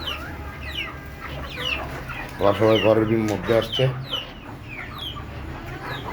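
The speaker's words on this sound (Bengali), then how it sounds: "এগুলো হচ্ছে সব দেশি মুরগি।" Native chickens kept on a rooftop cluck in a noisy cluster, their calls swelling loud in the middle and then easing off, while someone talks over them.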